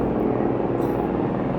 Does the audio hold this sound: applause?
no